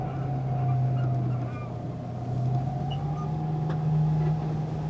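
A Candela electric hydrofoil boat's motor hums steadily and rises in pitch as its revs build after a tight turn, with a continuous whine over wind and water rush and no talking.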